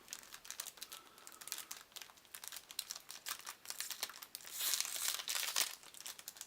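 Foil wrapper around a Nightmare Before Christmas Mayor starter card deck from 2005 crinkled and torn open, a steady close crackle of many small crinkles that grows louder and denser near the end, with no talking.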